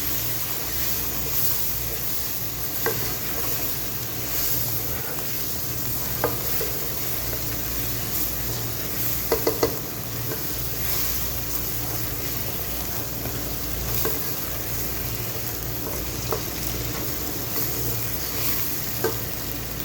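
Mutton stirred and frying in a handi with salt, coriander, turmeric and red chili, a steady close sizzle running throughout with occasional scraping clicks of the spoon against the pot.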